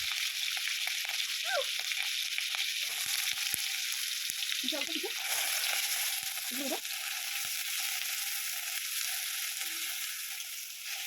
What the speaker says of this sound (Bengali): এরপর পেঁয়াজ বাটা আর পেঁয়াজ কুচিটাকে আমি একটু লাল লাল করে ভেজে নেব